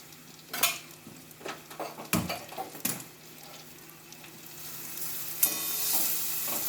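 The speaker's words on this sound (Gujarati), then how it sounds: "ધીમા ગેસ પર આપણે આપણે ડુંગળી બ્રાઉન થાય ટ્રાન્સપરન્ટ થાય એ થાય ત્યાં સુધી એને સાતળી દઈશું" Finely chopped onion and sliced capsicum sauté in a pan over low gas for a cauliflower curry, with a faint sizzle broken by sharp spoon clinks and scrapes, and no one talking.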